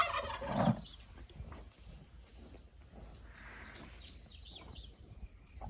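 A loud turkey gobble up close opens, followed by scattered gobbles, chirps and clucks from a flock of birds trying to get to the feed, with outdoor rustling throughout.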